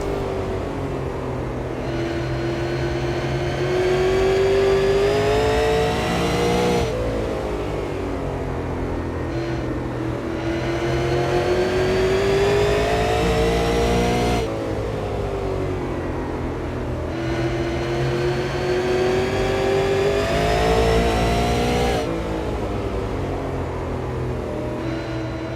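Super late model race car engines at South Boston rev loudly and continuously, rising and falling pitch in repeated waves as cars pass at close range, with no talk.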